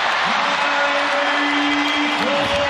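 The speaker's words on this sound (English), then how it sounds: "Gets a rise out of the crowd." A basketball arena crowd cheers and applauds after a Kyrie Irving shot, a loud, steady roar beneath a commentator's voice.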